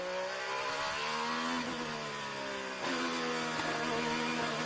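An IndyCar race car engine at Long Beach qualifying, the Honda-powered car revving high and loud with rising pitch sweeps as the car pulls through gear changes, a steady close roar with no voices.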